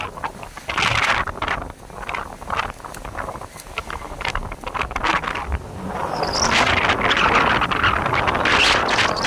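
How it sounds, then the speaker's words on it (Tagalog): Strong, gusty wind roars across the microphone continuously, with rustling and buffeting that grows louder toward the end. "Hangin pa lang yan, hindi pa yung sinasamahan ng ulan eh"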